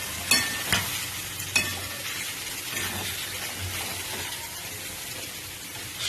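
Chicken sautéing in oil in a pan, a constant sizzle broken by a few scraping clacks as it is stirred, close up and fairly quiet.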